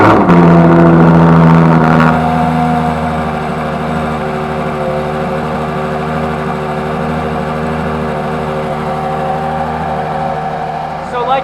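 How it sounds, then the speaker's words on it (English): A Ferrari Monza SP1 with a naturally aspirated 6.5-liter V12 fires up with a loud initial roar, then settles into a steady, smooth idle nearby, with a slight blip near the end. "let's go ahead and get the Monza SP1 started up"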